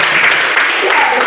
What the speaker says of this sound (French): On peut m'applaudir.